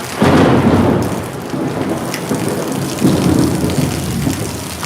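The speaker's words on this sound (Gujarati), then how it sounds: "વીજળી સાથે ધોધમાર વરસાદ શરૂ થઈ ગયો છે" Heavy rain pours steadily in Surat with lightning while deep thunder rumbles roll in twice, swelling loud near the start and again later.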